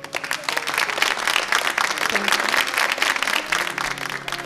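An audience at a mehfil, an evening music gathering, applauds to welcome a singer: dense, steady clapping that fills the whole stretch, with faint tonal sounds running beneath it.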